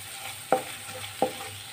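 Spices with garam masala roast in a pan, a faint, quiet sizzle broken by two distinct scrapes of a spoon against the pan about three-quarters of a second apart, near and without talking.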